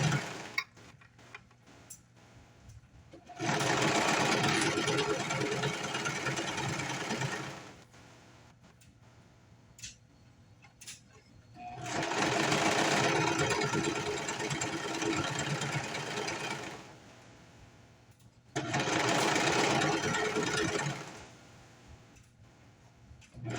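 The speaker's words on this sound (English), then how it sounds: "we're just going to stitch around the edge using the serger" A serger stitches around the edge of a fabric headband in three loud, fast-whirring bursts, separated by quiet pauses, close up with no talking.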